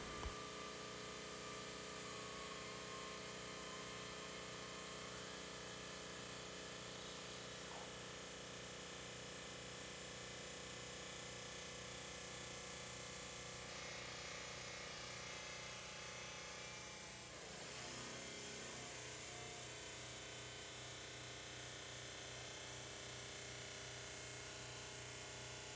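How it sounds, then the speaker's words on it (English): Lapidary saw slicing a thin piece from a large peristerite rock slab, a continuous machine drone and grinding hum running steadily throughout, fairly faint and unbroken. "he's taking a big slab and just cutting down along it"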